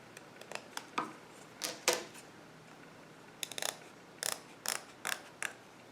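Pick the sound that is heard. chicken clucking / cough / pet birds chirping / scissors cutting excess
scissors cutting excess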